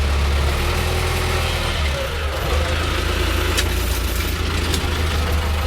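A tractor engine runs steadily on the drive home from hay making, a close continuous mid-low drone with a slight knocking throb and no talk.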